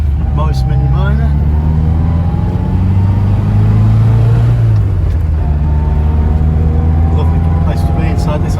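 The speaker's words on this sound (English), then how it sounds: "we'll just take you up the road in this lovely little 1964 Morris Mini Minor" A 1964 Morris Mini Minor Mk1 850 Deluxe drives up a road, its small engine droning steadily from inside the cabin and swelling briefly as it pulls harder, while voices chat over the running engine.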